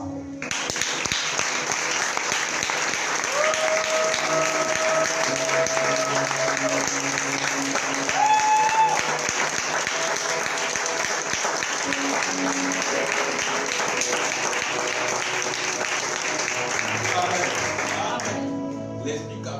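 A church congregation applauds in a long, dense, even roar of clapping that holds for about twenty seconds, with cheers rising over it and faint music or voices underneath.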